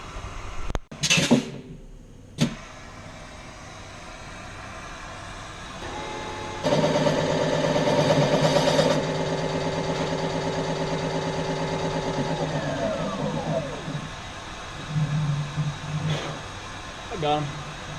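A Serdi valve seat machine cuts the exhaust seats of a Duramax diesel cylinder head in a shop: a few clunks, then a steady whirring drone for several seconds that winds down, followed by light handling noises.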